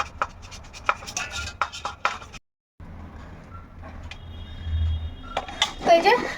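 A knife chops small vegetable stem pieces on a kitchen board in a series of quick, close, uneven knocks and scrapes, with a short silent gap partway through and a clatter of utensils near the end.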